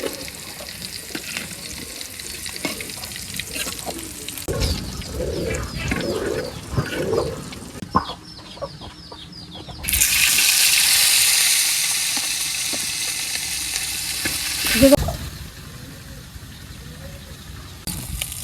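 Teasel gourd pieces fry toward brown in a pan, a steady sizzle with stirring scrapes, then a louder burst of hissing midway; birds chirp faintly in the background.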